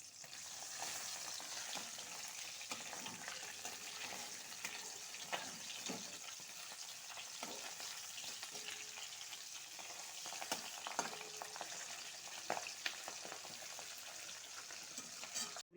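Pabda fish frying in a pan for a curry with data stalks and yogurt, a steady close sizzle with faint crackles and occasional scraping stirs throughout, no voices.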